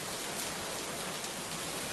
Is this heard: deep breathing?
no